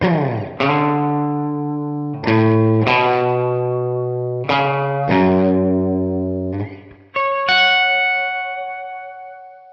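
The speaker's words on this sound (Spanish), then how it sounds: "este Hot Springs, que es básicamente un efecto de reverb de muelles" Electric guitar chords ring through a Line 6 HX One set to its Hot Springs spring reverb, several loud sustained strums each decaying with a lingering, slightly splashy tail, with no voices.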